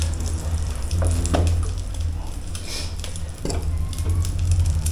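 Onions for a homemade burger fry in a pan, a steady close sizzle with occasional clinks and stirring scrapes, no talking.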